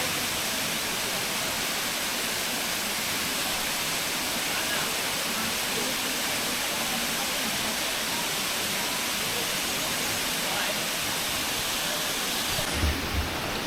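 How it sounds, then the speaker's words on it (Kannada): Powerscourt Waterfall in Ireland roars as a loud, steady broadband rush of falling water, filling the whole stretch without pause and with no voices over it. "ಸ್ವಲ್ಪ ಈಗ ಹತ್ತಿರ ಹೋಗೋ ವಾಟರ್ ಫಾಲ್ಸ್ ಇದು."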